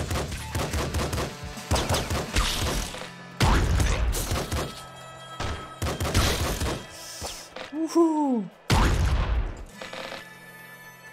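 Enemy corpses burst in loud, punchy explosions in the video game Nuclear Throne, several blasts following in quick succession alongside laser-like game effects, with a man briefly cheering between them.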